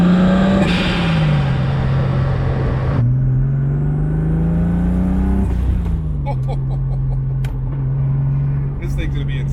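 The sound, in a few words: Toyota 1JZ engine in Lexus LS400 revving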